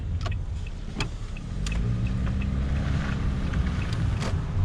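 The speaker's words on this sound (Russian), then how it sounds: "вот такие вот курсируют автобусы у нас маршрутные, единички и двойки, газели" Gazelle minibuses and route buses drive along Pavlov Street in the city of Mirny. A steady, close engine and tyre rumble builds and holds, with light clicks over the traffic and no talking.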